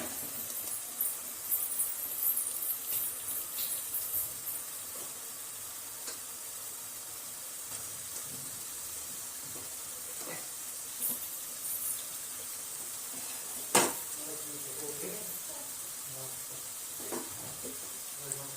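Fried cauliflower (gobi) sizzling in hot oil with masala in a pan for a gobhi matar sabji, a steady soft frying hiss with occasional stirring clinks and faint background talk.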